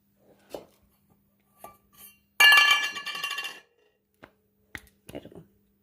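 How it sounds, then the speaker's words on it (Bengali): A bowl pressing and levelling rice dough for rice roti, heard as a bright ringing clink of about a second, with sparse light taps and knocks before and after in a quiet kitchen. "এবার একটা বাটি দিয়ে আমি সমান করে করে নেবো।"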